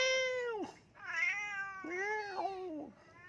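A white cat meows three times in a row, close and clear, each call rising then falling, with short pauses between them and no talking.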